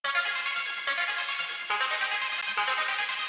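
A spacey synth arpeggio processed with Baby Audio Super VHS and Crystalline, sustained and bright with a shimmering high layer, its pattern shifting in phrases and playing steadily with no voices.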